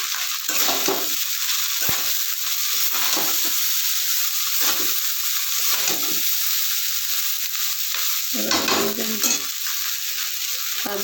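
Garlic rice stirred and fried in a pan with a little oil, giving a loud, steady sizzle broken by regular scraping stirs throughout, with no talking.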